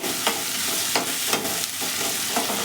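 Potatoes, onions and masala stir-fry in a pan, heard as a dense continuous sizzle broken by repeated scraping and clattering strokes of a spatula at a fairly even rhythm, loud and close.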